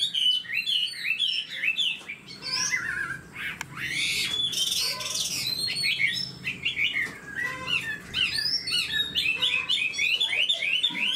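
A Chinese hwamei songbird sings close and loud, a continuous run of varied whistles, trills and rapid chirping phrases that barely pause over several seconds.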